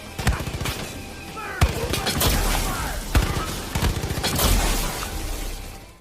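The Magnopulsar weapon in the video game Far Cry 5 fires in sharp, booming bursts, several loud cracks with crackling energy trailing between them, close and forceful.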